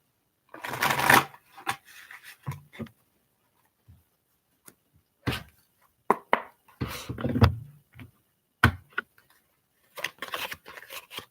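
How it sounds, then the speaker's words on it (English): Playing cards are riffled and shuffled in short bursts of crisp flapping, separated by pauses and small taps. "Cards act like they don't want to shuffle."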